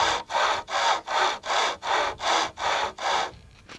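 A survival hand saw cuts through wood in steady back-and-forth strokes, about eight even rasping passes close up, before the sawing stops.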